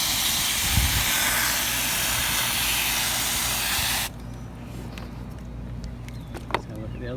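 A hose sprays water hard against a K&N air filter, a loud broad hiss for about four seconds that cuts off abruptly, leaving quieter drips and small handling noises.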